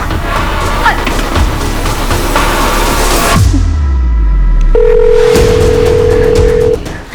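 An electronic phone tone sounds as a steady beep over a dramatic music bed and low rumbling in a TV crime drama, the tone holding for about two seconds.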